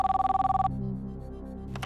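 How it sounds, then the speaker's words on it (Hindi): A telephone rings on a televised quiz show as a contestant is called, giving a quick run of electronic bell trills for about 0.7 s, then a lower hum of studio background. "फोन लगाया जाए इन्हें।"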